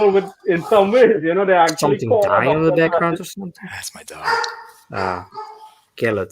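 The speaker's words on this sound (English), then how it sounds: "That's my dog." A dog barks in the background, faint and intermittent, under close, continuous talking.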